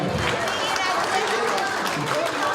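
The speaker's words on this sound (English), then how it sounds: "Ladies and gentlemen, please give a big round of applause for Mr." Audience applause at a youth festival event for an alumni association, a steady wash of many hands clapping at moderate level for a couple of seconds, with faint voices mixed in.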